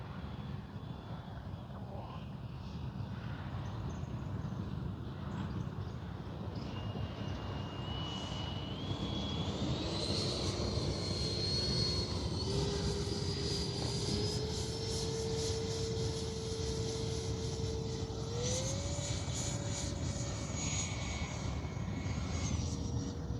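Freewing Mirage 2000 V2 RC jet flying in the heat, a steady loud ducted-fan whine with rising and falling pitch sweeps as it passes overhead, over continuous low rumble and no talking.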